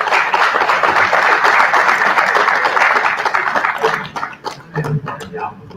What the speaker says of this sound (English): Let's give Brian a good round of applause here.